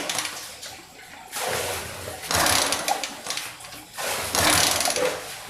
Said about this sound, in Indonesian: Jadi kita coba starter agak kuat.